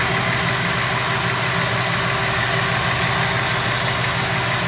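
A 383 stroker engine idles loud and close, a steady, even rumble with a rough, vibrating low throb and no change in speed.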